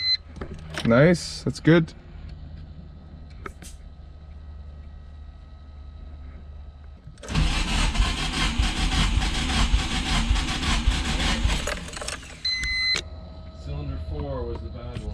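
A Nissan 240SX engine, with one cylinder low on compression, cranks and fires in a loud, harsh burst of mechanical noise lasting several seconds, then settles into a quieter running sound. People talk briefly before it.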